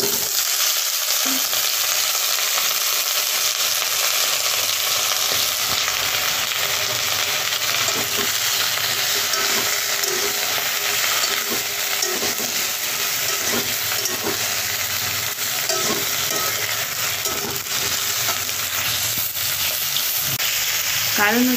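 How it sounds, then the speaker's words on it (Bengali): Vegetables fry in a pan for a bitter-gourd dish with small fish, a loud, steady hiss of oil that runs unbroken throughout, with faint occasional stirring taps and no talking. "প্রথমে আমি সবজিগুলো একটু ভেজে নেব"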